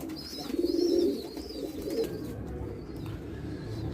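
Egyptian tumbler pigeons coo softly in a low, rolling murmur outdoors, loudest early on and fading into a steady, faint backdrop with occasional thin chirps above.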